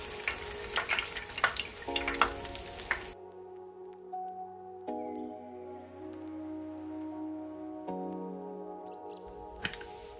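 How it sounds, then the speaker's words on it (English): Corn dogs deep-fry in oil with bubbling, crackling sizzle for a few seconds, then it cuts off and a quieter steady tonal hum with faint clicks remains. "So we are done with frying the corn dog meal"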